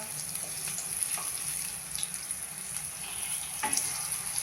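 Aloo tikki frying in a pan, steady oily sizzle with soft scraping and a clink as the patties are turned.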